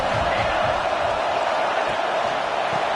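Alabama Crimson Tide stadium crowd roaring on third down at a college football game, a dense, steady wall of distant crowd noise holding without break throughout.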